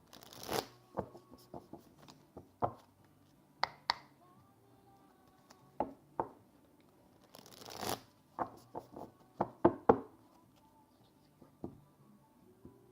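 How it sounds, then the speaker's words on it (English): Hand-over-hand shuffling of a deck of stiff tarot-style card stock, a close, uneven series of quick riffling flicks and slaps spread through the stretch with short pauses between bursts. "I'm going to do another hand over hand shuffle, so bear with me because this card stock is quite not very easy to shuffle."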